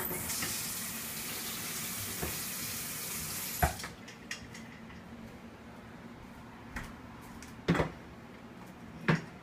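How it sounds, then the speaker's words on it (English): Tap water rushes steadily through a hookah for a few seconds and then cuts off, followed by a handful of sharp clicks and knocks in a quiet room. "Run some water through it again"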